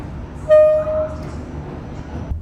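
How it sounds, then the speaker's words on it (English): A night sleeper train bound for Da Nang, Vietnam gives a short, sharp horn toot, then carries on with a low rumbling roll that lingers under faint background voices. "the noise and the constant jolting movements of the train"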